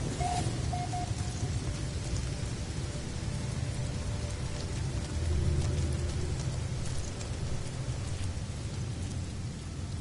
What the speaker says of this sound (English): Again, it's raining, but it's not as bad as the other planet.